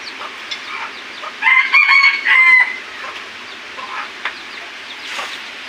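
A labuyo rooster crows loudly nearby, its call rising and holding for about a second, with hens clucking softly before and after.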